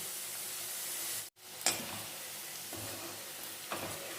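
Cashews and okra deep fry in hot oil with a continuous bubbling sizzle, broken by a brief silent gap and a few sharper bursts as the pieces are stirred.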